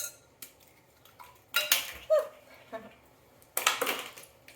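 An egg whisked with milk in a bowl: a few bursts of quick clinking and scraping of a utensil against the bowl, separated by quiet gaps, close and moderately soft.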